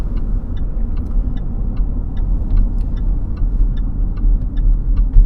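Car rolling into a heathland farm's main entrance, a steady low engine and road rumble throughout with light ticking on top, close and fairly loud, no talking.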